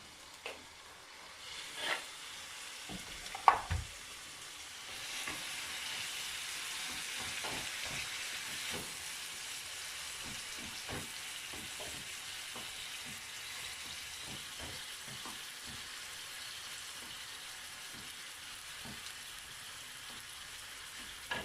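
Eggplant fries in melted butter in a pan, a steady close sizzle that starts after a few light clicks and taps and continues evenly to the end, with no talking.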